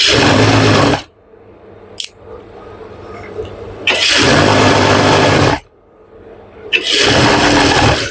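A sewing machine runs loud and close in three sustained bursts while a pajama seam is stitched, with quiet pauses in between.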